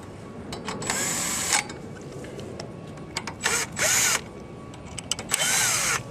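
A cordless drill tightens carburetor bolts on a Coleman Powermate 1350 generator in several short, loud whirring bursts, each rising and stopping abruptly, with brief clicks between them.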